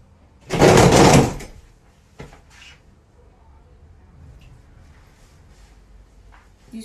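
A door closes with one loud thump near the start, followed by a few faint knocks and small rustles in an otherwise quiet room.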